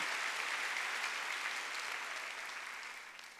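Church congregation applauding during a Sunday worship service, a steady wash of many hands clapping at moderate distance that gradually fades out over a few seconds.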